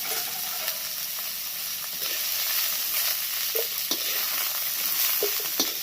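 Whole spices (cardamom, cinnamon and cloves) sizzle in hot oil in a wok, a close, steady frying hiss with a few light stirring scrapes and crackles.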